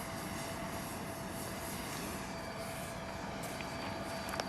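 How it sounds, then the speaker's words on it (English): A jet rumbles and whines steadily as the presidential plane arrives and taxis at Andrews Air Force Base for Ronald Reagan's state funeral in 2004, a sustained loud engine roar with no voices. "This, the presidential plane, which has arrived at the Andrews Air Force Base and pulled into position"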